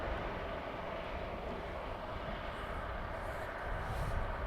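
Steady broadband jet roar from an Airbus A321XLR airliner at Dublin Airport, moderately distant and constant, with wind noise and a faint rise near the end.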